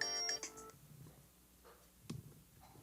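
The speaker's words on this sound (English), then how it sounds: "somebody's calling my phone" A mobile phone ringtone sounds an incoming call, a bright repeating melodic tone close by at the start that then cuts off, leaving quiet room noise with a few faint knocks.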